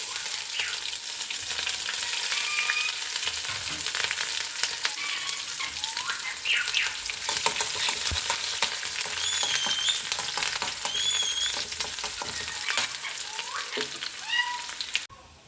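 Curry leaves, ginger, garlic and green chillies fry in hot oil with a steady close sizzle and crackle throughout, broken by occasional stirring scrapes, while a cat meows intermittently in the background.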